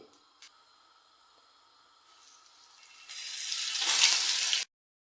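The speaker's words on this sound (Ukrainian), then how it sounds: "Рибу я обжарую на великому вогні з двох сторін" Hissing sizzle of flour-coated hake frying in oil over high heat in a pan, starting quietly and swelling louder before stopping abruptly.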